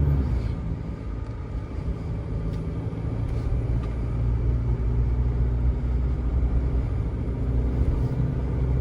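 A car with an automatic transmission and torque converter pulls steadily up a steep hill, its engine drone and road rumble heard from inside the cabin, continuous and fairly loud with no talking.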